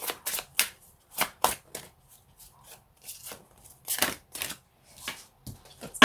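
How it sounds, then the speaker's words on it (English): Tarot cards are drawn one by one from a deck in a series of sharp, crisp flicks and slaps, close and dry, with quiet gaps between them. "I will take 3 cards from here"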